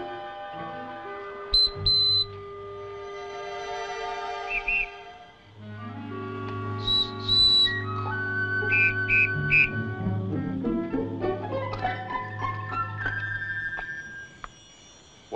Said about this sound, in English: Whistle made from wing bone of eagle.